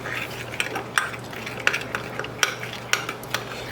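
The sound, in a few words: stirring sugar into a cold summer dish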